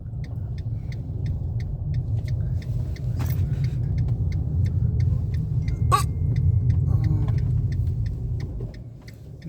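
Cars creep slowly through a market street in Italy, giving a steady low engine rumble close by, with light regular ticking and a few brief clinks on top.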